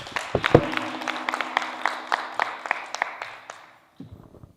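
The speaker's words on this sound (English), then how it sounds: "A clap for all the presenters." Scattered clapping from a small audience at a conference session, made up of a handful of hands patting irregularly for several seconds before stopping.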